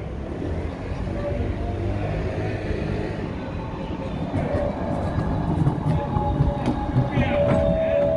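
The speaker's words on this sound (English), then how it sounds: "Ooh, the tram's coming down." A tram rolls along street rails in Croydon, London, with a steady low rumble, clattering wheels and a rising squeal, heard close among town noise and a voice speaking.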